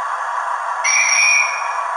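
Guard's whistle function from a Hornby TTS sound decoder in an Intercity 125 model train, a steady electronic whistle that steps up into a sharper two-tone shrill partway through, played alone through a small speaker with a faint hum underneath.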